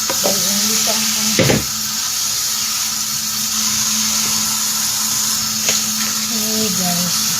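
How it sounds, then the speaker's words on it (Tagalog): Salmon sautéing in a pan for sinigang gives a steady, close sizzling hiss that runs throughout, with a low hum beneath and a couple of brief clatters from the pan. "I saute the salmon before"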